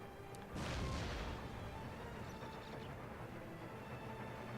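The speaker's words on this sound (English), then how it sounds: "The forest will shelter us a bit from the cannon fire." Cannon artillery fire in the video game Empire Total War: one loud, broad boom with a rumbling tail that slowly fades into a steady battle din, no speech.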